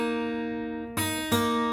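Guitar notes ring out with a sustained, steady tone, then two quick plucked strums follow near the end, close and clear with no talking.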